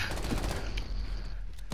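Bursts of automatic gunfire in Call of Duty: Modern Warfare, rapid rattling shots in quick succession, moderately loud with a few sharper cracks near the end.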